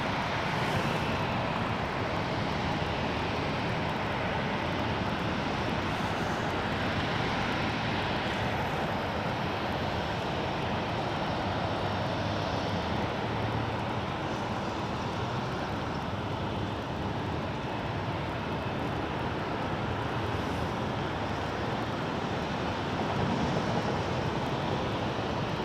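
A fixed-wing airliner departs San Jose International Airport, a steady, broad engine roar that holds for the whole stretch, heard from a distance with some wind and no voices.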